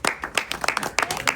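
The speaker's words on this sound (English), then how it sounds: "just a round of applause for Renee's pants" Small group clapping at a wrestling media scrum, a brief burst of close, uneven handclaps in quick succession.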